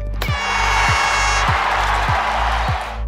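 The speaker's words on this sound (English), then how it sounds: "Cue the virtual applause." A canned applause-and-cheering sound effect plays at the close of a livestreamed coding tutorial. It is a loud, continuous wash of crowd clapping and cheers over a steady electronic backing with repeating low thumps.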